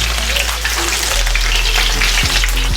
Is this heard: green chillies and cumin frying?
yes